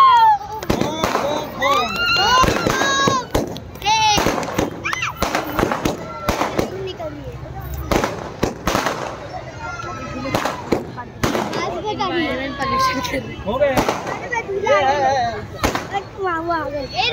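Firecrackers bursting at a wedding feast celebration, with loud sharp bangs in irregular bursts mixed with excited shouting and chatter from a crowd of adults and children.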